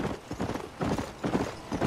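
Horse hooves clip-clopping in the video game Red Dead Redemption, an even trotting rhythm of repeated hoof beats, moderately close and fairly quiet, no talking.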